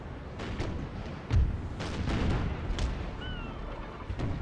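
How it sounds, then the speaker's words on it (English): Ship cannon broadside in Napoleon: Total War, a scattered series of deep booms and sharp reports rolling across several seconds, one heavier thump standing out near the middle. "Oh, and the second broadside. No cannons left."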